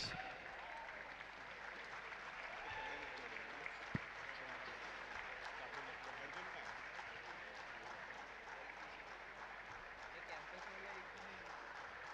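Continuous applause and cheering from the audience at a Robocon 2023 robotics contest, a dense steady wash of clapping heard at a distance for about twelve seconds.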